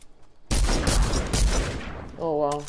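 A rapid burst of loud, close rifle shots from an epic infantry rifle in Fortnite Battle Royale, cracking in a tight cluster for about a second and a half before a short tonal game sound.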